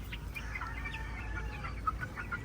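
Chickens on a small poultry farm cluck softly in scattered short calls, moderately distant, over a steady low background hum, with no talk.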